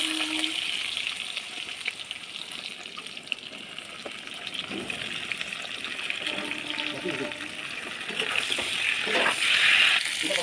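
Eggplant and potato pieces fry in fish oil seasoned with black cumin, a steady broadband sizzle that swells louder near the end, with a voice faintly underneath.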